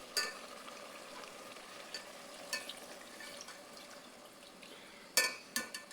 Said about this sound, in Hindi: ये चिकन हमारी फ्राई भी हो रही है, पक भी रही है